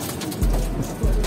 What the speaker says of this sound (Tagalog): Ang gaganda ng ibon.